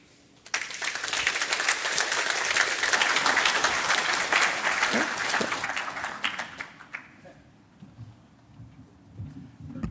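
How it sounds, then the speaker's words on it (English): A cybersecurity event audience breaks into applause for a presenter, starting abruptly and holding dense and loud for several seconds before fading out, with faint murmuring afterward. "Big round of applause again for Andy"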